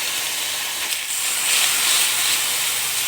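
Two teaspoons of minced garlic hit a hot pan of onions that are browning at the edges, giving off a loud, steady hiss that swells briefly partway through.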